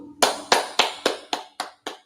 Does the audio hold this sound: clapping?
yes